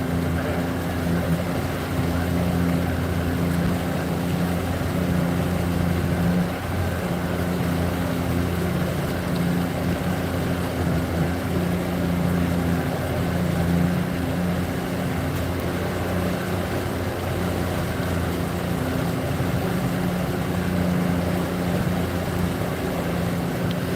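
A fishing boat's trolling motor runs steadily at low RPM on the Ohio River, a continuous low hum with tonal bands that holds throughout, faint background noise around it.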